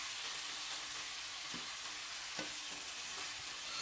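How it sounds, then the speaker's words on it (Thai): Chicken and clusters of unlaid egg yolks stir-fried in a pan for a Thai spicy stir-fry, with a steady, fairly quiet sizzle and a few sharp spatula scrapes against the pan. "ผัดไปเรื่อย ๆ ครับให้เนื้อไก่สุกให้หมดเลยนะครับ"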